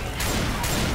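Shotgun blasts in the co-op zombie shooter Left 4 Dead 2 at the Port finale, a loud dense burst of gunfire with a sharp onset filling the whole second, a second blast landing partway through.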